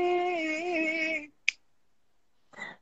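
Finger snaps keeping a song's rhythm: a sharp single snap after a sung phrase, then a softer cluster of snapping, close and dry, with singing just before.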